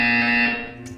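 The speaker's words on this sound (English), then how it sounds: "You will hear a buzzer." A steady electronic buzzer drones in the video game Portal 2, holding one harsh tone for about a second at close, loud level before easing off, with no voices.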